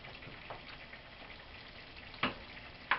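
Linguine sauce spiced with hot pepper simmers in a pan, giving a steady soft sizzle and bubbling with a few sharper pops, close and fairly quiet, no talking.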